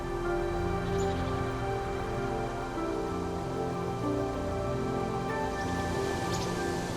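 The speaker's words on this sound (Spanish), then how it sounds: "Tras una lluvia intensa, pequeñas cascadas comienzan a caer directamente sobre la calzada." Heavy rain pours down over a perilous road, a dense, constant wash of drops that stays loud and even, with no voices.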